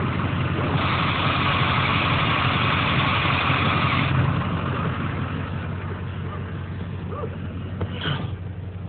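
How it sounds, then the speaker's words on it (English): A Duramax diesel truck with a ZF6 manual gearbox idles close by in a steady low drone, with a faint metallic clutch-disc rattle under the engine noise. "I don't know if you can hear the disc rattle."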